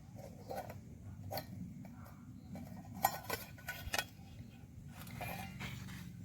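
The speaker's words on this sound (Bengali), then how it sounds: "এই দেখুন, এরপর আমি ঢাকনাটা খুলছি।" A metal lid comes off a pot of cooking mushrooms with a few sharp clinks and knocks in the middle, set among quiet kitchen clatter and a low background hum with no speech.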